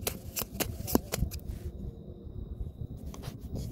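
A deck of tarot cards is riffled and shuffled up close for an evening reading, with quick papery flicks and slaps followed by softer card handling.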